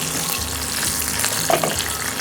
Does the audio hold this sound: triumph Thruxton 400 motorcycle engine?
no